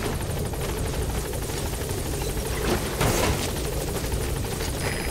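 A helicopter in the Metal Gear Solid V video game, heard as a loud, steady rotor roar filling the whole stretch with a brief swell near the middle, with no talk over it.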